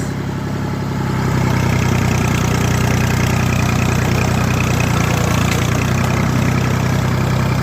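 A heavy diesel road roller engine idles, then its revs rise and hold at a steady, throbbing drone in second gear before climbing a steep hill, with no talking.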